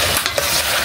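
Adobo sizzles and fries in a pan while being stirred, a close, dense crackling hiss with small scraping motions throughout a brief moment, no voices.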